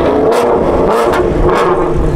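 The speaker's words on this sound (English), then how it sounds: "The Lucchese 350 sounds hella good." A Lucchese 350 car engine revs loud and close, with a continuous roar that swells in three surges and carries no talk over it.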